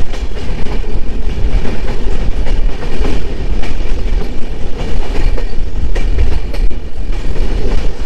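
The Kaziranga Express speeds at over 100 km/h across the Farakka Barrage, a loud, close, continuous roar with rhythmic clickety-clack of wheels over rail joints and faint squeals, with no voices.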